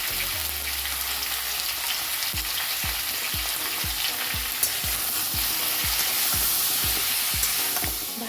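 Eggplant pieces frying in hot oil with a continuous bright sizzle, punctuated by a steady series of scraping stirs against the pan, close and alone without talk.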